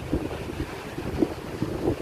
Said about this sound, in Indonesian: Duduk sambil menikmati desiran ombak.